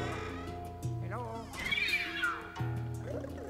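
Cat meows in the video game Luigi's Mansion 3, several short plaintive calls amid game music and effects, moderately loud, with someone talking over parts of it.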